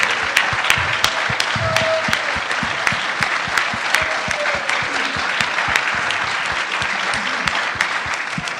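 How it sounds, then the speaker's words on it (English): A church congregation on its feet giving a standing ovation, dense continuous applause filling the room at steady loudness with sharp individual claps standing out throughout. "applause."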